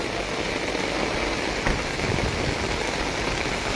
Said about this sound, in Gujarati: આવી જ રીતે વરસાદ ધોધમાર રીતે આવવો જોઈએ